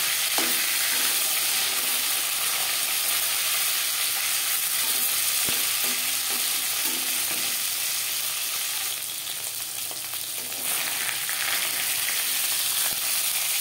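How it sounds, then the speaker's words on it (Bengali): Fish fries in a pan for a Bengali fish curry: a steady, hissing sizzle runs throughout, with a few light scrapes and clicks as the pieces are turned over. "মাছ একটা সাইড ভাজা হয়ে গেলে অপর সাইডটা উল্টে দেবো"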